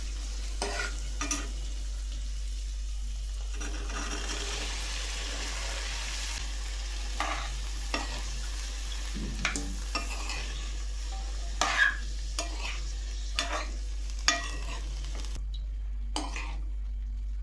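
Cowpeas being stirred and mixed in a cooking pan, a soft background sizzle with irregular spoon scrapes and knocks against the metal, plus a steady low hum underneath.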